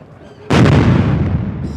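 A single loud cannon shot from a gun salute at a Brazilian Army sergeants' school ceremony for the army commander. It bursts out abruptly after a quiet moment and rolls away in a long outdoor echo.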